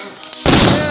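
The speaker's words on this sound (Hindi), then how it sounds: "डबल आवाज का पटाखा छोड़ रहा है" A Diwali double-bang firecracker goes off with a sudden loud bang right up close, followed by a sustained crackling roar.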